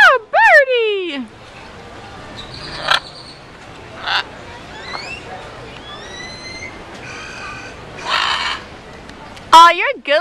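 Parrots at Xel Ha squawk in harsh, sweeping calls, loud bursts at the start and end with scattered nearer and fainter cries between, while a person speaks softly to the birds.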